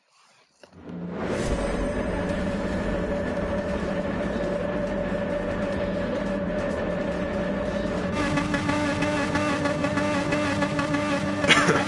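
A Porsche race car engine in Gran Turismo 7 starts up and then drones steadily and loudly at high revs, its tone shifting slightly as it runs, with no talking.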